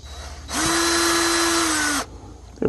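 A power tool, likely an impact driver or drill, spins up loudly for about a second and a half to loosen a fastener while replacing the lower radiator hose on a 2001 Chevrolet Silverado, then stops abruptly, close and alone.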